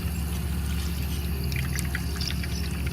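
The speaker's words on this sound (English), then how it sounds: "Let's open up the water faucet" Water pours from an open faucet onto a small water wheel machine, a steady, even splashing flow with light trickling detail and no one talking.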